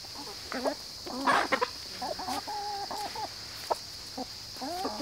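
Backyard chickens cluck and squawk close by in short repeated calls over a steady background hum, with a person talking briefly among them.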